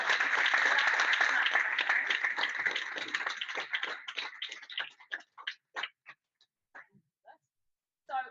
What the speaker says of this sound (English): So big round of applause, because it was very nerve-wracking for them to talk to you.